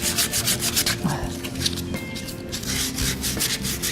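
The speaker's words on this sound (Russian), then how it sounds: "Немножко пройтись наждачкой" Sandpaper rubs over a wooden ritual wedding dish for honey in quick back-and-forth strokes, a close, rhythmic scratchy rasp that repeats steadily without any talking.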